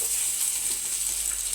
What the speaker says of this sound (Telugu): ఇప్పుడు ఈ ఆయిల్లో వేసుకొని దీన్ని ఫ్రై చేసుకుందాం